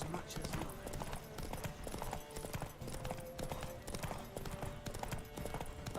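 Horse hooves clip-clop at a gallop in The Witcher 3: Wild Hunt, a steady rhythmic pounding beneath music and battle noise, with voices speaking over it.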